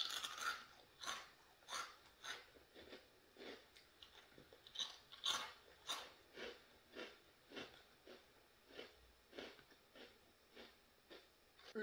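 Spicy chili-flavoured rice crackers crunch in close-up bites, a steady series of crisp snaps about once a second, recorded intimately with no talking.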